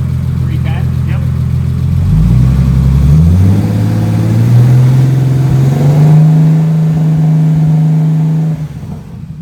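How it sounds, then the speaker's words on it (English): A Honda S2000 engine revs up from idle and then holds at a steady RPM, its loud drone climbing smoothly before settling into an even hum, then dropping away at the end, with people talking nearby. "Do me a favor, rev it up and hold it at like 310."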